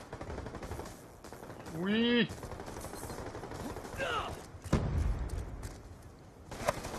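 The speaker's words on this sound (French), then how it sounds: "Wow, wow, ça tire de partout, là." Gunfire from Black Ops II multiplayer, machine-gun bursts and shots crackling from several directions under excited French talk from players.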